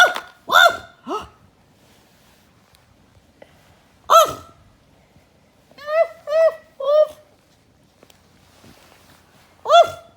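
A voice imitates a dog barking, giving single and clustered yips spread across the stretch with short pauses between bursts, loud and close.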